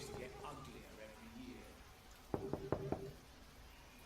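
Knocking on a door in the video game Vampyr: four sharp, evenly spaced raps close by, standing out over a quiet room ambience.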